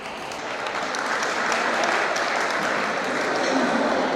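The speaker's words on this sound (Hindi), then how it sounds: "आपकी भरपूर तालियां" Steady, dense audience applause at a Nurses Day ceremony in Mianwali, a continuous wash of many hands clapping at even volume throughout, with no voices over it.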